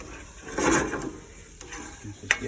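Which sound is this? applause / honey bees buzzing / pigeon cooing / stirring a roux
stirring a roux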